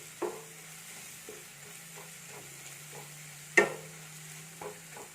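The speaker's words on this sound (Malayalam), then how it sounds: "ഇനി ഇത് ഒരു 2-3 മിനിറ്റ് മീഡിയം ഫ്ലെയിമിലൊന്ന് ഇങ്ങനെ ഒന്ന് ഇളക്കി ഒന്ന് ഫ്രൈ ആവട്ടെ" Chicken curry masala frying over medium flame, a soft sizzle under several spaced clinks and scrapes of a spoon stirring the pan, one louder knock midway, no talking.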